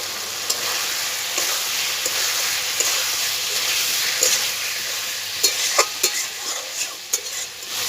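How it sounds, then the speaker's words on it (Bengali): Chunks of elephant foot yam fry hard in a pan for a Bengali yam and fish curry, loud steady sizzling with repeated scraping stir strokes that get busier toward the end, no voices. "ওলটাকে খুব ভালো করে কষে নিয়েছি"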